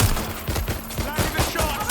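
Bursts of rapid gunfire from the video game Watch Dogs: Legion, several quick shots in an uneven rhythm over a dense, busy game soundscape, with a voice speaking in the mix.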